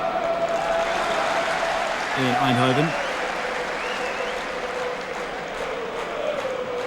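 A crowd of 33,000 at a PSV Eindhoven home league football match gives off steady stadium murmur and applause, with a commentator talking over it.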